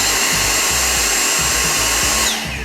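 A Dyson V6 cordless vacuum cleaner runs in standard mode with a loud, steady high-pitched whine and airy motor rush, close up and alone, tapering slightly at the end.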